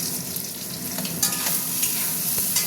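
Whole cumin seeds, dried red chillies and bay leaves fry in hot oil, giving a steady, close sizzle with a few sharp pops and crackles scattered through it.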